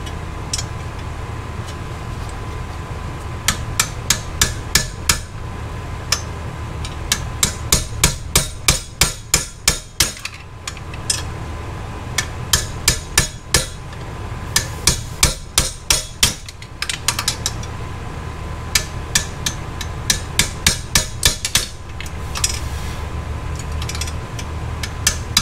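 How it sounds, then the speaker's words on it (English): Sharp metallic hammer blows strike a long extension on the pivot of a wrench to break loose a bolt during an Audi S4 B8.5 engine removal, coming in fast repeated bursts with short pauses over a low steady hum. "like a long extension and hammered on the pivot point of this wrench"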